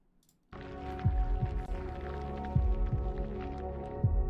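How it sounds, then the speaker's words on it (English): Heartbeat sound effect from the Reverse: 1999 video game, slow low thumps repeating at uneven intervals over a steady droning in-game hum, fairly loud and alone without talk. "The heartbeat sound effects."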